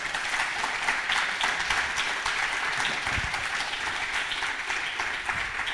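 Sustained applause from a large audience, dense and even clapping that holds steady from start to finish with no talking.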